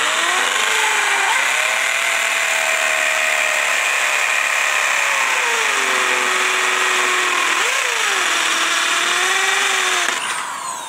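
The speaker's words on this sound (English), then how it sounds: "we're going to take and drill a lot of the pieces, or pre-drill a lot of the pieces" A power drill bores holes into pieces of live rock for a coral frag tank, a steady whining motor note that rises and dips in pitch as it bites, running loud and continuous almost the whole time before easing off at the end.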